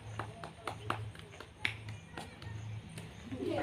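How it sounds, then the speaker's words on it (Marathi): Sharp hand claps ring out in a martial arts class, a handful of crisp, close claps spaced in short bursts over a low steady hum, with a voice talking in the room. "1 2 3 टाळ्या वाजाय."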